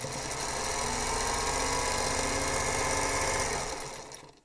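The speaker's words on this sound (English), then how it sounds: "I'm going to sew a white one on either side of this one" A sewing machine stitches quilt block pieces for a spinning star block, a steady close mechanical whir with a fast needle pulse that winds down at the end.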